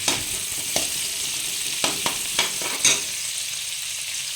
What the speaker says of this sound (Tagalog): magigisa na tayo ng sibuyas